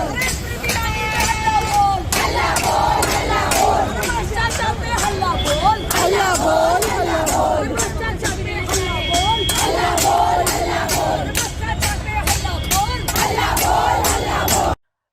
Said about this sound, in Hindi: ध्यान से देखिए इस वीडियो को और सुनिए कि आखिर इन महिलाओं की भीड़ में क्या आवाजें सामने निकल कर आ रही हैं।